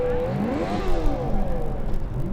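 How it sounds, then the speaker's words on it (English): KIT's electric Formula Student race car runs an autocross course at Formula Student Germany 2012. Its loud, close motor whine rises and falls in pitch as it accelerates and slows through the turns. "So car number E21, the electric car from KIT are out there."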